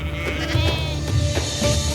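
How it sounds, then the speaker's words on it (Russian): Sheep bleat steadily over a low, constant background on the grazing slopes of Mount Ararat, several calls overlapping without pause. "летом на склонах Арарата щиплют травку десятки тысяч овец"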